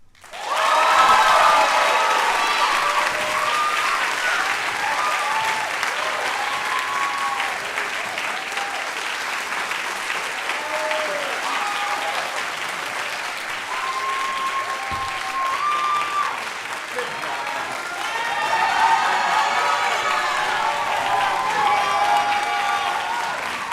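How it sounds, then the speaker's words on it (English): Loud, sustained applause and cheering from a concert audience after a choir performance, rising again near the end, with some voices mixed into the crowd. "So one more round of applause for SFS."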